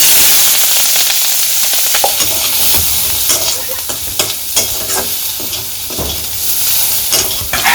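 Onion and green chili frying in a pan after fish, a loud, close hissing sizzle with scraping stirs and clicks of a spatula against the pan throughout.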